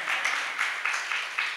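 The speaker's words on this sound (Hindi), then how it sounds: "एक बार मनिया जी के लिए तालियां बजा दें।" Audience at a Jain religious discourse claps together in a steady burst of applause, with dense clatter swelling in small waves throughout.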